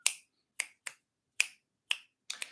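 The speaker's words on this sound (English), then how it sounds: "this rhythm that I'm just clapping" Six sharp, dry hand claps or snaps, close and isolated in near silence, tapped out in an uneven rhythm with the last two coming in quick succession.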